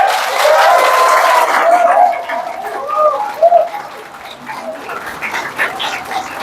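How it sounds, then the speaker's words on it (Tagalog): An audience applauds for PGH at a cathlab opening ceremony at Ospital ng Maynila, a fairly loud burst of clapping that fades over several seconds, with voices and chatter mixed in. "Pwede bang lakasan yung palakpak ninyo"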